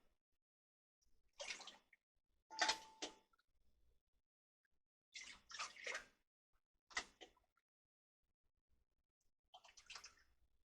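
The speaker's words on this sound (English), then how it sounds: "I'm going to add some dashi" Dashi broth is poured into a pan in several short, splashy bursts separated by quiet pauses, each pour soft and close.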